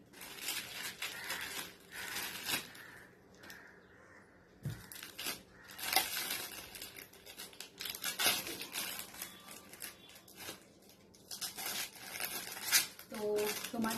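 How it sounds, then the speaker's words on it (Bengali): A package torn open by hand for an unboxing, heard up close as intermittent bursts of ripping, crinkling and crumpling wrapper with short pauses between pulls. "হাতই ছিঁড়ে দিচ্ছি।"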